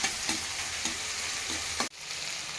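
Carrot, green chilli, tomato and curry leaves frying in a pan for oats upma, a close steady sizzle broken by the scrape of a spatula stirring every half second or so.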